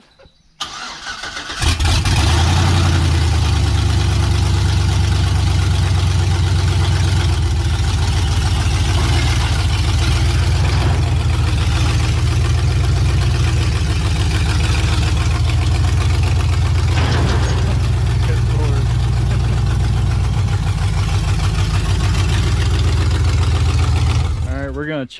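A beat-up car engine runs at a steady, loud idle as the vehicle is driven off a trailer, with a deep low throb throughout and brief revving shifts, continuing alone for over twenty seconds.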